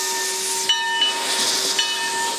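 A coal-fired steam locomotive on the Cripple Creek line hisses loudly as it departs, a continuous close rush of venting steam with steady whistle-like tones and a few brief chuffs.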